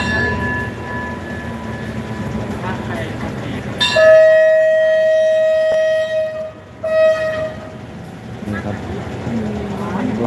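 A train at Chachoengsao Junction station in Thailand, with a steady rumbling hum, a sustained horn-like tone midway and background chatter from people on the platform.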